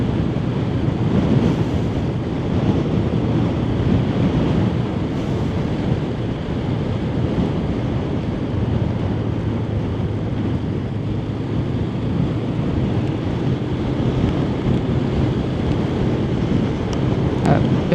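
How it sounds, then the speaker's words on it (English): Heavy rain and strong wind during a storm on a motorcycle ride through Sinaloa, Mexico, a loud, constant roar of wind buffeting the microphone mixed with rushing water noise, unbroken for the whole stretch. "Big rain."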